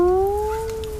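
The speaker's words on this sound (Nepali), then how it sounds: "ए त्यो बिरालो ओह्रालो पो झरेको छ" A single cat meows once, close and clear, in a drawn-out tonal cry that slowly falls in pitch. No voices or other sounds.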